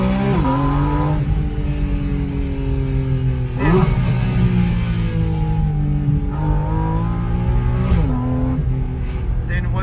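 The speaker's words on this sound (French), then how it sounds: "on peut pas faire plus Porsche que ce son là en fait" A stiff Porsche sports car driving in town revs its engine through repeated rising and falling sweeps, a loud, raspy exhaust note heard from inside the cabin, with people talking now and then.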